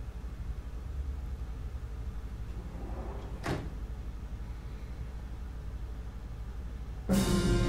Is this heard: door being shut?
yes